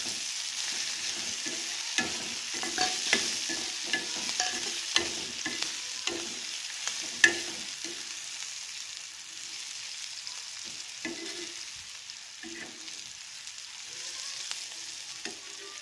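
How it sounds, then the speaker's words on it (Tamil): Cumin and black pepper sauté with onions in a pan, a soft continuous sizzle broken by repeated scraping stirs of a spoon, close and moderately quiet with no talking. "இப்போ வந்துட்டு இது கூட நம்ம சீரகம் குறுமிளகு சேர்த்து வதக்கலாம்"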